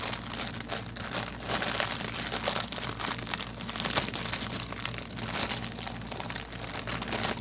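A plastic bag holding embroidery thread crinkles and rustles continuously up close as it is handled and crumpled, loud and busy throughout with no talking.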